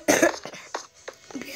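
A person with a cold coughs in a short, sharp burst followed by a few smaller hacks and throat clearings, close and fairly loud.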